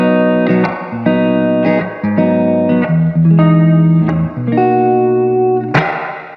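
An electric guitar plays a sequence of loud, sustained strummed chords through a Cumulus reverb pedal on its plate setting, each change blooming into a dense, shimmering reverb, ending on a bright final strum that rings out alone.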